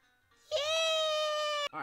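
A cat meow inside the Roblox video game, a single loud, sustained tonal cry of about a second that cuts off abruptly, with no talk over it.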